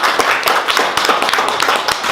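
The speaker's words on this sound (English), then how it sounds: "A little round of applause for Paul, I think." A small audience at a Barnsley Archives accreditation presentation gives a brief round of applause, close and fairly loud, with individual hand claps audible in a quick, uneven patter that carries on without pause.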